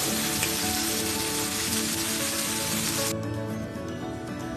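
Dhekia fiddlehead fern frying in a pan, a dense steady sizzle like rain on a surface that continues throughout and softens slightly near the end, close, with no talking.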